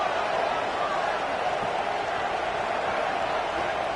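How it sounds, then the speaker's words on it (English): Steady, loud wash of stadium crowd noise from a football video game, a dense continuous roar holding level throughout with no clear breaks, rising as the home defense faces a red zone stand. "here comes the noise. This crowd is trying to inspire this defense to make a big red zone stop"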